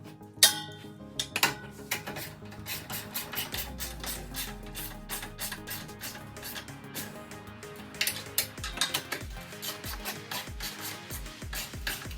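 A hand ratchet tightens bolts while a side step is installed on a Jeep JK, giving dense runs of quick metallic clicks and rasps with a few louder knocks, close up and steady throughout.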